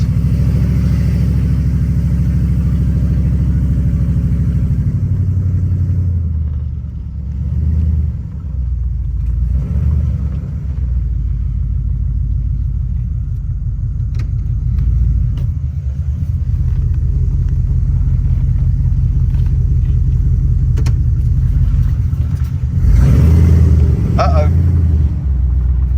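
A car engine rumbles steadily at close range, a deep continuous drone with brief swells and a louder burst near the end, while people talk over it.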